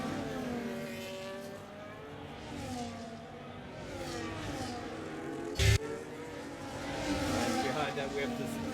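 Racing cars circling the Bahrain circuit in a racing video game, a string of engine whines rising and falling as cars pass, steady under commentary, with one sharp burst midway.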